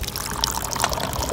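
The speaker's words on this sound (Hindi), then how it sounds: "मैंने सारा पानी इसके अंदर डाल दिया।" Water poured from a bottle splashes and trickles onto the body of a Hyundai Venue car, a close, steady stream lasting about a second with no talk.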